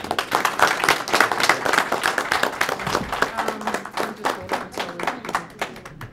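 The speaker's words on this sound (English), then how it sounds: "have a round of applause, please." Sustained audience clapping fills a board of education meeting room, fairly loud and steady, then thins slightly toward the end as the ovation winds down; no talking over it.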